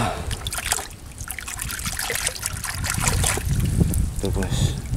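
Water splashes and trickles as a small blue swimming crab is washed at a brackish fish pond, continuous close splashing with people talking over it.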